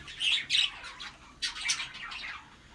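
Newborn budgerigar chicks give several shrill, raspy squawking calls in short bursts, close by and fairly loud against a quiet background.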